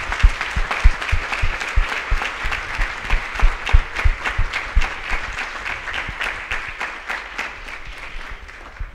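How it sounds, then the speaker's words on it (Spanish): Audience applause at a pro-life youth congress, a large crowd clapping steadily for about nine seconds, with some sharp individual claps standing out near the front before the clapping slowly thins toward the end. "Les podemos dar un aplauso a ellos."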